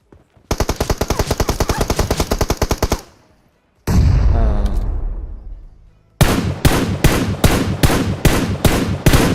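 Automatic gunfire in the mobile game PUBG Mobile: a loud rapid burst of shots, a pause, a booming rumble that fades, then a steady string of heavy single shots up close.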